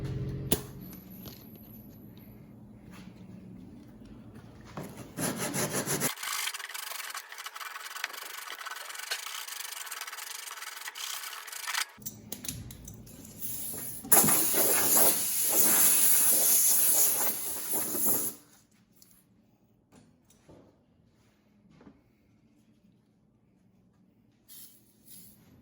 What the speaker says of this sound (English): We're gonna come in here with some 80 grit and sand it all back and get it all cleaned up